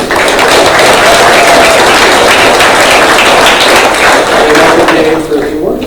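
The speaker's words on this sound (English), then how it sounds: "So another round of applause for Phil." Banquet audience at a press association awards dinner giving a sustained round of applause, loud dense clapping filling the room, with some voices mixed in before it tapers at the end.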